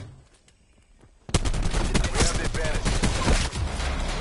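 Black Ops 4 gunfire erupts suddenly after a quiet moment: a dense, loud burst of rapid shots that continues steadily to the end.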